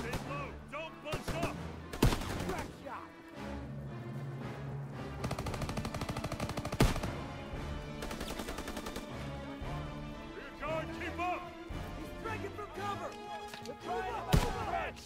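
Gunfire in the Call of Duty WW2 campaign, with dense bursts of rifle and machine-gun shots and sharp single cracks running throughout, mixed with game music and shouted voices.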